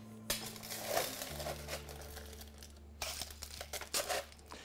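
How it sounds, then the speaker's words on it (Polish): Ice rattles out of a chilled glass, then crushed ice is added for a brandy cocktail: several close, crisp clinks and crunchy clatters in short bursts, with quiet pauses between them. "Wywalam lód i dodaję kruszonego."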